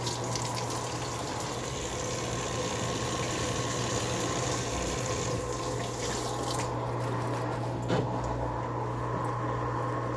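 Steady, loud rush of water draining out of a KUPPET 26 lb washing machine during a rinse cycle, continuous for the whole stretch with no talk over it.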